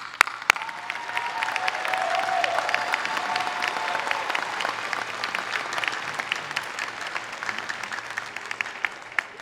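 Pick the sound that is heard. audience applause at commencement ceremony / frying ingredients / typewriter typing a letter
audience applause at commencement ceremony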